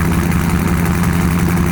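Chevrolet Silverado 6-liter V8 running just after a cold start, a loud, steady, rumbling idle with a deep, throbbing low end, heard alone with no talk.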